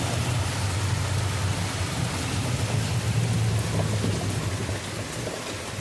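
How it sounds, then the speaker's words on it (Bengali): Steady, dense rain pours down nonstop on a main road, a broad hiss of water hitting the hard surface with a low rumble underneath, no voices. "রাস্তায় দেখো কত বৃষ্টি হচ্ছে"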